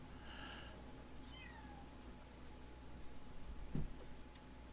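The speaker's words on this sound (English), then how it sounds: "I can hear the cat meowing on the the track." A cat meows once or twice in a room, faint and somewhat distant, over a low steady hum with a soft knock near the end.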